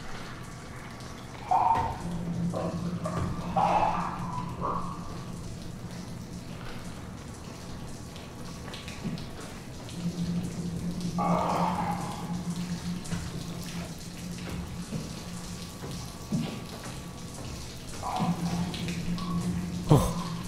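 Water drips and trickles from the ceiling in the horror video game SOMA, a continuous watery patter over a low ambient hum, with periodic droning swells and no talk.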